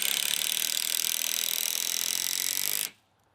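A DeWalt Atomic cordless drill on speed setting 2 drives a fastener with a loud, steady whir that holds for almost three seconds, then cuts off sharply into near silence.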